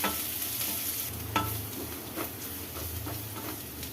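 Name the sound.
sautéing and stirring in a pan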